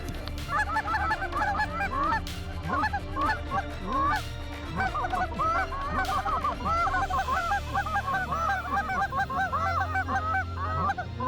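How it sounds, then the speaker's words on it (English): A large flock of Canada geese in central Kansas honking continuously, many overlapping calls near and far, loud and busy throughout with no pauses. "Big Canada geese"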